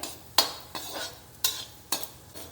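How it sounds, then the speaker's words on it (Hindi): Raisins roast in ghee in a kadai over a very low flame, with a faint background sizzle under five or six distinct scraping stir strokes from a spoon against the pan. "अब ये किशमिश इसमें थोड़ी सी रोस्ट कर लेंगे। बिल्कुल सिम आंच पर इसको भूनेंगे।"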